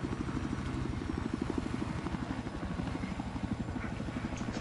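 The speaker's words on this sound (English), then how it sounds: "Why is there just a fucking helicopter all the way over there, just barely skimming over the water?" Helicopter skimming low over water in a video game, a rapid rhythmic rotor thump at steady loudness with a low droning engine underneath.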